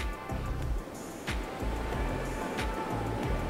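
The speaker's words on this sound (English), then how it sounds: "Start to take some deep breaths in through the nose, out through the nose." Deep breathing in and out through the nose during a yoga session, a few slow, close breaths each rising and fading in a steady rhythm with soft background noise.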